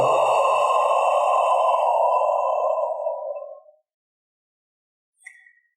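A Chi Kung spleen healing sound: a single breathy, voiced exhalation lasting nearly four seconds, close and steady before tapering off, followed by silence and a brief faint click.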